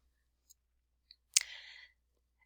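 A single crisp computer mouse click, close and isolated, preceded by a couple of faint ticks in an otherwise quiet room.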